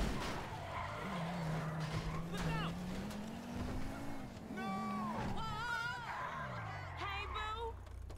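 Tyres skid and squeal from a car in GTA 5 gameplay, with several sharp wavering screeches over a rumbling engine and other game effects; it is loud and close, and voices talk in between.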